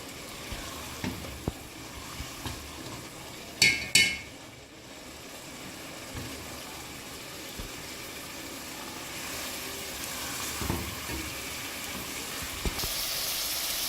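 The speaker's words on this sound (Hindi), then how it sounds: "बस इसको मैं 3-4 मिनट तक भून के तो फिर मैं इसको निकालती हूँ" Mutton sizzling and frying in a pot as it is sautéed for a masala stew, a steady close crackle with a couple of sharp metallic clinks of a utensil stirring against the pot.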